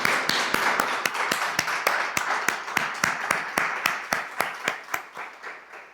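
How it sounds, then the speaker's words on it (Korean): A church congregation claps in unison to glorify God, a rhythmic series of sharp, evenly spaced claps about three per second that gradually fades in loudness. "박수로 하나님께 영광 돌리겠습니다."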